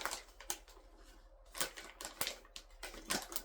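Sharp, irregular snips and crinkly clicks, like scissors cutting through stiff plastic packaging, close by with short pauses between cuts.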